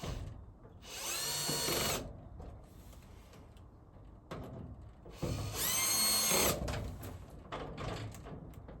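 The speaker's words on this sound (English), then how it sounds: "I've got my drill on the lowest torque setting" A power drill on its lowest torque setting drives screws into plastic garage door window parts, whirring in two short bursts with a quieter pause between, then a longer, louder run with some clicking and handling noise.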